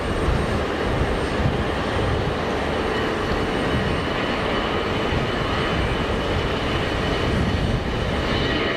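An easyJet jet airliner on its takeoff roll at Geneva Airport gives a loud, steady broadband engine roar that holds without a break.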